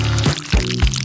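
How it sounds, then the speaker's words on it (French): Liquid poured over food during a cooking challenge, a short burst of splashing glugs in quick rhythmic pulses, close and fairly loud, with a faint tonal hum beneath. "Et j'arrose dessus."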